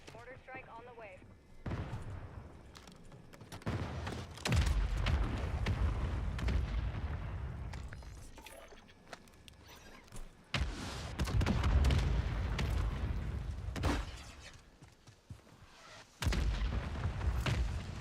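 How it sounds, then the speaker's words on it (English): Mortar strike explosions in a video game, several heavy booms landing in bursts with rumbling tails, mixed with in-game voices and someone talking. "Mortar strike on the way."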